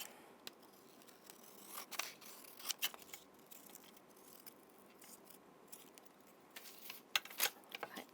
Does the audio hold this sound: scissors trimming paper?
yes